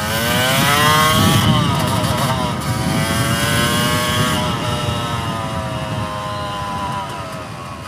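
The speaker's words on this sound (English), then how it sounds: "the RPMs rise when I let out that clutch and it's in a lower gear like that right there" Yamaha YZ250 two-stroke supermoto engine, loud and close, revving with rising and falling pitch as the rider lets out the clutch in a low gear, a sustained buzzing drone under the rider's talk.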